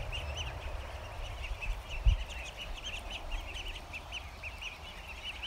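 A small duckling near a swamp gives a steady run of thin, rapid peeping calls at moderate distance over a low outdoor rumble.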